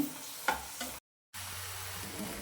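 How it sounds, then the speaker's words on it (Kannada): Palak dal kichidi mixture with spinach paste sizzles and fries in a pan while being stirred, with a soft continuous crackle and scraping that briefly cuts to silence before resuming. "ಒಂದು 2 ನಿಮಿಷ ಇದನ್ನು ಹಾಕಿ ಫ್ರೈ ಮಾಡೋಣ."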